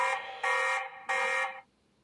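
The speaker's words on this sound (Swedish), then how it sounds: "larmet är på här" Electronic alarm on a 12-volt Tapo C200 surveillance camera in a caravan, a loud steady tone sounding in two long bursts with a brief gap, then cutting off abruptly.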